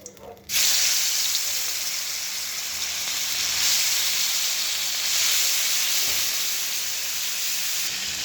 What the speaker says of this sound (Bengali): এখন আমি এই তেলেতেই এই চিংড়ি মাছগুলো ভেজে নেব।